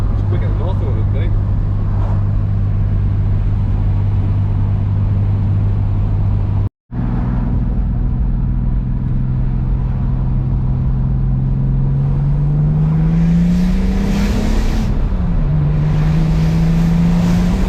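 A Ford XH Falcon turbo car drives and accelerates, its engine droning low and steady before the pitch climbs as it pulls harder, then dips and settles again. The engine note is close and continuous throughout.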